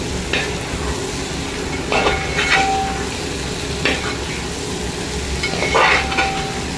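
Chicken frying and being stirred in a pan for a catering-style chicken roast, a steady sizzle with scraping stirs at intervals, no voices.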